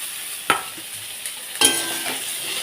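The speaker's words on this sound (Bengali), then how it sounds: "সেটার থেকে একটু আলু বেগুনটাকে ভেজে নিচ্ছি" Potato and eggplant pieces frying in a pan, with a faint sizzle under two sharp utensil knocks and scrapes, one early and one later, plus a lighter tap between them.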